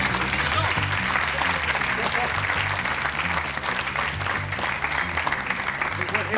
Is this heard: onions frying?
no